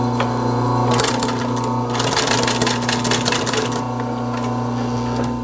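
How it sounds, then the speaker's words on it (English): A sewing machine stitching pleats into fraying upholstery fabric on a small stitch setting for a 1930s drop-in seat, a fast rattling needle chatter in bursts over a steady motor hum, close and fairly loud. "Because this fabric unravels and frays, I've switched down to a smaller stitch size. I'll start by sewing in these pleats."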